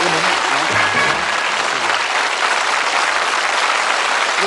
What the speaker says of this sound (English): Ladies and gentlemen, a nice warm round of applause.